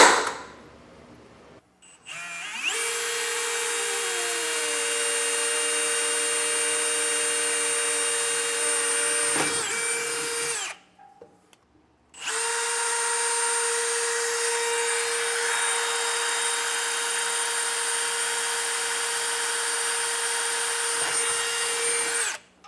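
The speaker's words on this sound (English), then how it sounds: "I'm using a step bit so I can slowly work my way down to 11/16." A drill with a step bit bores an 11/16 hole up through a 2025 Chevrolet truck frame for a B&W fifth wheel hitch kit, a loud whining grind in two long runs separated by a brief pause.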